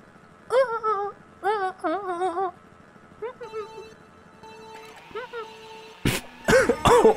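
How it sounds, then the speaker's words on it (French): A man with a scratchy throat coughs and clears his throat several times in short bursts, close and fairly loud, with a quiet hum underneath. "Mais mec, regarde, je tousse."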